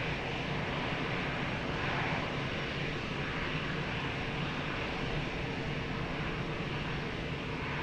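A jet aircraft at Lisbon Airport roars steadily and loudly as a broad, constant engine rush that fills the whole stretch without a break.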